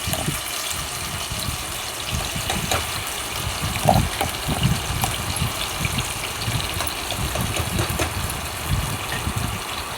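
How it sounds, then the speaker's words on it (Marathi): Spice masala sizzles in hot oil as chicken cooks, making a loud, continuous broadband hiss close by, with uneven low bursts and crackles throughout. "तेल गरम झाले, आता मी मसाला टाकून छान परतवून घेते."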